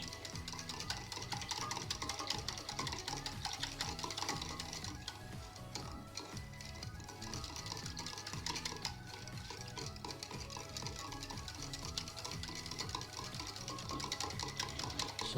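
A hand beater whirs steadily while mixing a sattu drink with sugar in a home kitchen, a continuous mechanical buzz with faint clinking, heard close and alone.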